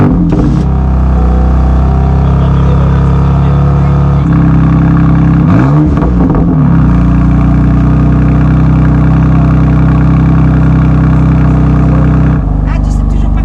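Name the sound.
Manhart MH2 550 car engine cold start and idling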